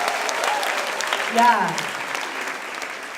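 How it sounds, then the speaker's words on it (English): An audience claps for walking group leaders at a Panhellenic recruitment meeting, a brief round of applause that peaks midway and then fades, with a voice speaking briefly over it. "How about we give them a round of applause"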